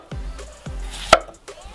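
A knife slicing a zucchini into rounds about 1.5 cm thick onto a board, three distinct thuds at a steady pace, the last one sharper and louder.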